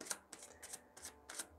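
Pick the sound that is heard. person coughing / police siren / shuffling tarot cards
shuffling tarot cards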